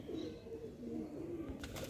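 Pigeons kept at a Lucknow pigeon sale coo softly in low rolling calls, faint and without speech.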